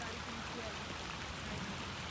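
Rain falls steadily in Jeddah, a constant, fairly faint hiss of water with no clear breaks, with faint voices in the background.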